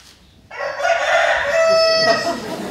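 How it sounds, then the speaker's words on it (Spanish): In a school theatre group's musical staging of La venganza de Don Mendo, a rooster crows loudly: one long, bright crow begins abruptly after a quiet start and carries on to the end. "Ya canta el gallo."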